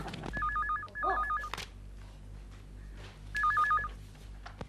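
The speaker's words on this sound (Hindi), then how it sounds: "डैडी, फोन उठाओ।" A household telephone rings in two bursts of warbling trills separated by a pause, heard indoors at moderate volume with faint room noise.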